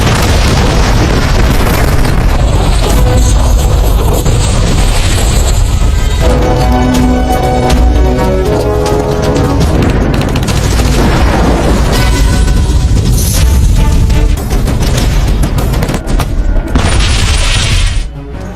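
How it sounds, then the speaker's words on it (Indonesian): Enemy oil drums blow up in film action after sniper fire. Loud, continuous booms and blasts roll into each other and sit over a dense cinematic score, staying close and heavy throughout. "tim sniper yang telah bersiap di posisinya mulai meledakkan drum minyak milik musuh"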